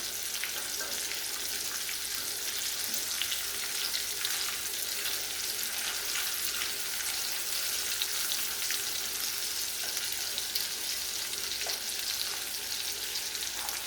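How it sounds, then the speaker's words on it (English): Sausages browning in a skillet, a loud, even, continuous sizzle and crackle that holds steady throughout without speech. "while I'm waiting for my sausage to get all nice and brown"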